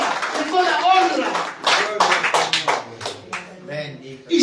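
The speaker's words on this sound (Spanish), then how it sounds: "Denle fuertes aplausos al Señor" Church congregation clapping loudly in praise during a worship service, dense applause running throughout under a preacher's voice.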